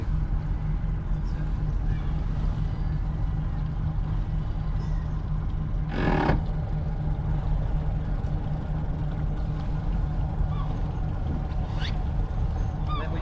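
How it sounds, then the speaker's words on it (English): A powerboat engine held in slow reverse during a training course drones steadily at close range, with a brief louder swell midway and talk faint underneath. "So essentially you're going into reverse, slow reverse, holding it in reverse"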